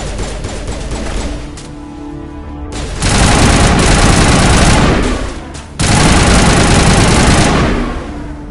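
Gunfire in the Mass Effect video game: dense, loud bursts of rapid automatic fire in two long sustained volleys, with a heavy, close blast sound that fits a grenade.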